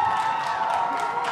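Graduation audience for the 2021 North Pole High class applauding and cheering, a dense wash of crowd noise with scattered whoops, loud and continuous.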